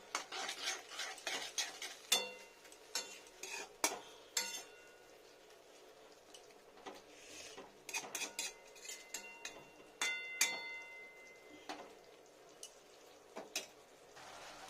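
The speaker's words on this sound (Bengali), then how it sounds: "মিডিয়াম টেম্পারেচারে ফুটিয়ে নিচ্ছি" Fenugreek greens curry cooking on medium heat, with a spoon stirring and clinking against the pot in irregular bursts over a soft, steady background hiss.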